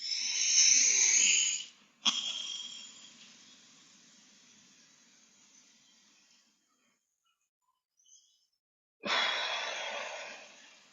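Forceful exhaled breaths in a guided fascia breathwork session: a loud, airy rush at the start, a long fading exhale, near silence, then another strong breathy exhale at the end.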